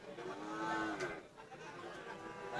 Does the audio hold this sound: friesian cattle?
yes